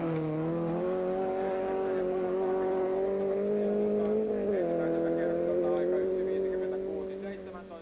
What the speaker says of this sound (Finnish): Pölyyn katoaa myös eskortillaan Raimo Järvinen.